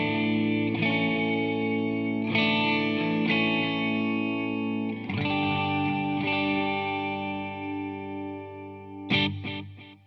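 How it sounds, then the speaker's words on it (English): Electric guitar played through a wet Headrush pedalboard rig with shimmer, tape echo and reverb effects, sustained chords ringing out with long washy tails and repeating echoes, closing with a few quick muted strums. "if I put my effects back on, I have a shimmer, a tape echo, and a 11 reverb"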